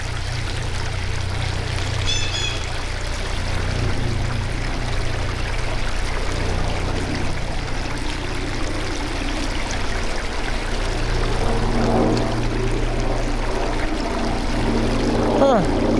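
A person urinates in a steady, continuous stream for about sixteen seconds, a constant splashing trickle under a low background rumble.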